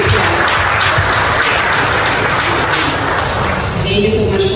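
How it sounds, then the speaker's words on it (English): A big round of applause from the audience at an employer networking talk show event, loud continuous clapping with crowd noise and some voices mixed in throughout. "I think that you guys should give yourselves a big round of applause"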